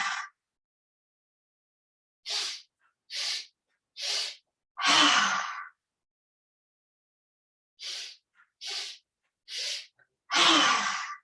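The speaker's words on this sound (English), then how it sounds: "we do 5 rounds of the breath of joy again" Breath of joy yoga breathing exercise in a gentle heart-opening class: rounds of three quick, sharp inhalations through the nose, each followed by a long, forceful whooshing exhale, close and loud, with silent pauses between.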